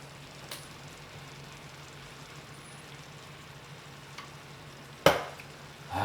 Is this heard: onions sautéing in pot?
yes